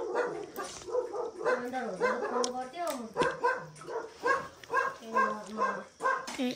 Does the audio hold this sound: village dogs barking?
yes